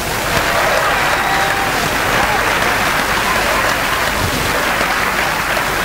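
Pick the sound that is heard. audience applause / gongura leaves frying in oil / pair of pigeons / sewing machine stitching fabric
audience applause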